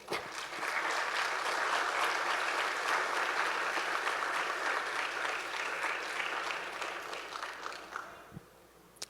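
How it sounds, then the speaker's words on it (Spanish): Church congregation applauding during a Spanish-language sermon, a sustained dense clapping from a large crowd that holds steady for about eight seconds, then thins and fades out at the end. "Denle un aplauso a Dios."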